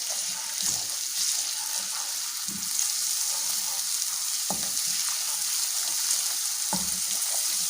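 Crushed ginger and garlic fry in a karahi for a beef shinwari karahi, giving a steady close sizzle with a few soft clanks from stirring.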